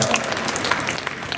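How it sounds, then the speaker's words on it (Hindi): Brief burst of crowd applause at a BSP political rally where a poet performs on stage, a short, dense patter of many hands. "ताली बजाओ।"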